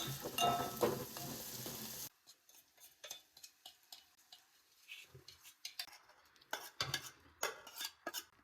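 Mustard seeds, onion and masala frying in a pan, a loud burst of sizzling at first, then quieter crackles and scattered sharp pops and clinks of stirring.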